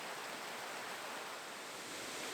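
Fjarðasel river near Seyðisfjörður, Iceland rushes in a dense, steady broadband wash of flowing water that stays constant throughout, with no voices.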